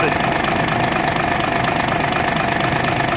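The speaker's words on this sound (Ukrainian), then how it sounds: "Двигун Д0826 LOH18." A MAN D0826 LOH18 diesel engine, rated 260 horsepower, runs at a steady rumbling idle on its first start, loud, close and continuous with an even rhythmic knock.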